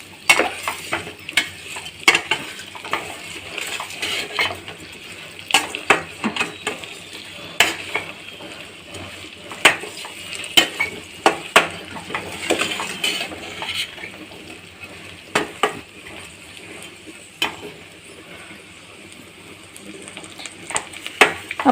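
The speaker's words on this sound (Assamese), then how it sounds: "চেনিখিনি গড়ালৈকে আৰু অলপ ভাজি লৈছোঁ মই।" Elephant apple pickle with sugar fries in a pan, a soft steady sizzle broken by frequent sharp clinks and scrapes of a spoon stirring against the metal, with no voices.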